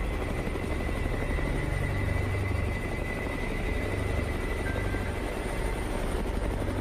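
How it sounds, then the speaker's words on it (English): A helicopter engine and rotor roar steadily and loudly while the aircraft lifts off toward fog-covered farm fields on a wild boar hunt, with a continuous dense drone and no talking. "As the helicopter lifts off toward the fog-covered fields, each of us feels our heartbeat in sync with the engine's roar."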